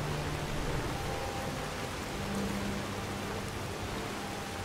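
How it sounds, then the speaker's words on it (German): Rain falls in the Skyrim video game as a steady, even hiss of droplets, continuous and unbroken with no voices, under a faint low ambient hum. "Oh, hier regnet es auch."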